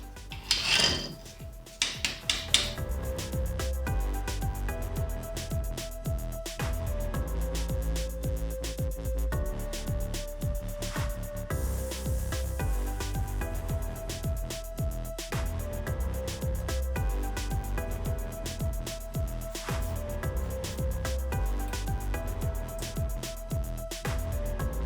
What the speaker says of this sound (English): I think I should just saw it off.